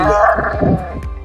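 A farm puppy gives a brief, close, high whimper and yip, about one short whine over a second, mixed with a person speaking.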